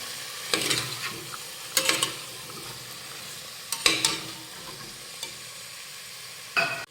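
A spoon stirs soaked chickpeas and large potato chunks in a pan, producing four or five distinct scraping, clattering strokes spaced a second or two apart over a faint, steady sizzle.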